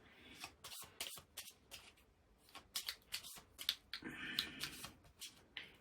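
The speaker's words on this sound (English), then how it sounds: "Okay, let's just give this a little shuffle." Board game cards for This War of Mine are shuffled close by, with quick bursts of riffling and soft flicks in an uneven rhythm, and no talk.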